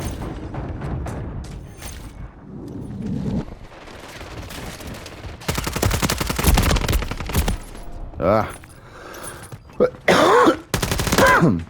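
Gunfire in Call of Duty Modern Warfare 3: bursts of automatic weapon fire, heavy booming impacts and sharp single shots, sparse at first and then a dense volley, with short bits of game voice mixed in.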